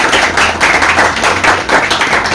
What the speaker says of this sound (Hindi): तो इनके लिए ताली हो।